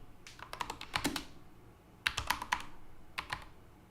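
Close, crisp keystrokes on a computer keyboard come in three quick bursts of rapid clicking separated by short pauses, with no talking.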